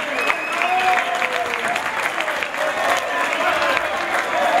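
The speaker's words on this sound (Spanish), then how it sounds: "Fuerte el aplauso también esta noche" An audience at an anniversary celebration for radio announcers gives sustained, hearty applause for Mario Agredano Brambila, with steady clapping and crowd noise throughout and voices faintly mixed in.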